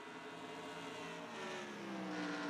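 Race cars lap Bristol Motor Speedway at night in a racing video game, their engines droning in a steady, faint whine whose pitch rises and falls as they pass, with no voices over it.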